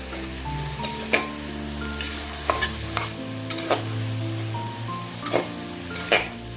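Close sizzle of a ground spice paste frying with frequent spoon scrapes and clinks as the mixture is stirred for a paneer curry, moderately loud and continuous.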